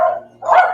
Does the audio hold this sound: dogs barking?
yes